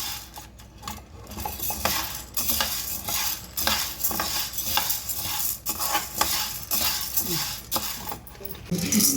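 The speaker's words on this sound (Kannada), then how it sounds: "ಕಡಲೆಬೇಳೆ, ಉದ್ದಿನಬೇಳೆ, ಅಕ್ಕಿ ಇವೆಲ್ಲ ಪದಾರ್ಥಗಳು ಏನು ತೋರಿಸಿದ್ದೇನೆ ಅವೆಲ್ಲ ಎಣ್ಣೆ ಹಾಕ್ದೇ ಹುರಿಬೇಕು." Chana dal, urad dal and rice are dry-roasted without oil over a low flame in a pan, stirred continuously with a metal spoon that scrapes and clinks in quick irregular strokes over a faint rattle of grains.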